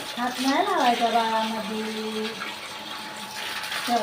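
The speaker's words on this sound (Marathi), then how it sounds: "जर थोडा हंडा भरून द्या मला प्यायचं पाणी भरू दे" Water runs steadily into a large metal water pot, a continuous rushing hiss beneath a voice speaking over it.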